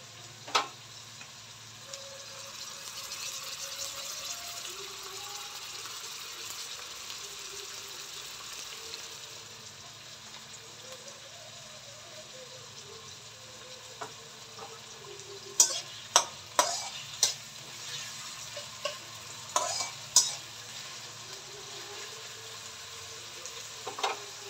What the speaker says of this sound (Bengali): এটা কিছুটা ভাজা হয়ে যাক,